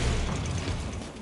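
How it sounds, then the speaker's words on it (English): Shrapnel bomb blast in Warhammer 40k Space Marine 2, a dense, sustained roar of broadband noise with heavy low rumble and scattered crackling debris, loud and close for just over a second. "Giving them a shrapnel bomb."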